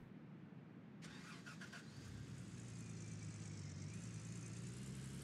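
A car in the Gold Rush video game starts up and drives off, its engine settling into a steady mid-pitched hum after a brief starter whir, heard alone without talk.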